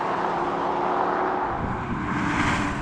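Several cars, among them a BMW M340i, an Audi S4, a Mercedes-AMG E53 and a hybrid Volvo S60 Polestar, accelerate hard side by side in a drag race, a loud, broad, steady engine roar that runs without a break.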